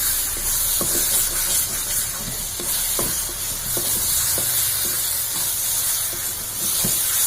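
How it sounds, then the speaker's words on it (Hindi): Chili pickle with mustard sizzles and fries steadily in a pan while a spoon stirs it, scraping in repeated close taps over a constant frying hiss. "और इसको थोड़ी देर 2-3 मिनट मैं इसी तरह से फ्राई करती रहूंगी, मतलब चलाती रहूंगी।"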